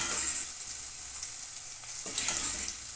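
Puffed rice roasting in a hot pan, a steady dry sizzling hiss with soft stirring scrapes, a brief louder burst of crackle and rustle near the end, close and continuous with no talking.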